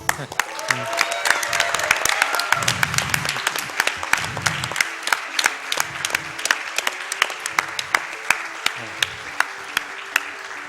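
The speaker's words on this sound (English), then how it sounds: "Another round of applause for him, please." Loud sustained applause from an Awesome Games Done Quick 2016 audience after a Pokemon Yellow speedrun, rising then thinning into scattered individual claps, with some voices briefly heard beneath.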